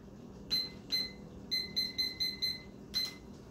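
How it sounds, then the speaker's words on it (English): A kitchen timer going off while pork chops simmer, giving a series of thin high beeps in a quick irregular pattern, faint over a low background hiss. "Okay, so I'll do that. I'll set the timer."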